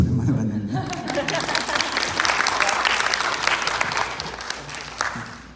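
A church congregation applauds during a Sunday worship service, steady indoor clapping that swells and then gradually thins, with a voice briefly audible at the start.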